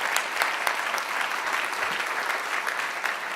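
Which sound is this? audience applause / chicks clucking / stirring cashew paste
audience applause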